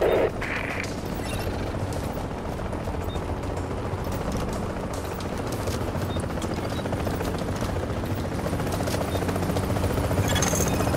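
A helicopter in the game Tom Clancy's The Division thumps steadily overhead, a loud continuous rotor drone with bursts of gunfire crackling over it.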